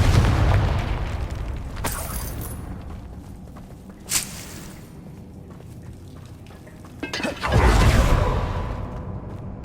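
The fiery Confringo spell goes off in Hogwarts Legacy, with several separate whooshing booms and bursts spaced a few seconds apart, the last one the heaviest, over quieter game ambience.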